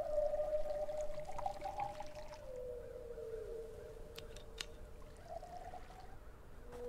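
A hand water pump being filled in the survival video game Desolate gives a steady pouring, gurgling stream of water running throughout, with a few brief higher clinks near the end and no talk.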